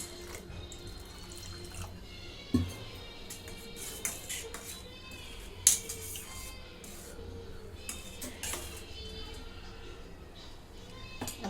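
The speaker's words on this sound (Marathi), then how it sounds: "आता पाणी ओतून घेते" Water pours and splashes into a bowl of mung dal, with a few drips and clinks against the container.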